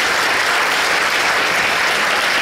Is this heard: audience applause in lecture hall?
yes